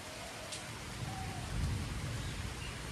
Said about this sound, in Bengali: একটু বৃষ্টিটা না খুব দরকার ছিল